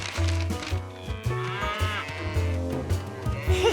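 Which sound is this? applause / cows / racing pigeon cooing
cows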